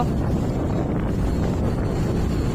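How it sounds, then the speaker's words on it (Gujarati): Strong wind buffets the open deck of a RoRo ferry in the rain, a loud, continuous roaring rush close to the microphone with no break and no voices. "ફૂલ પવન છે."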